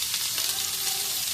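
Chopped vegetables frying in hot oil for a fish and moong dal curry: a continuous, bright, hissing sizzle with crackling texture, steady and close throughout.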